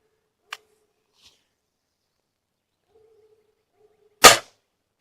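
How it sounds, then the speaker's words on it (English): A single .22 air rifle shot fires as one sharp, loud crack near the end, after a faint click early on and otherwise near silence. "So, 22 air rifle."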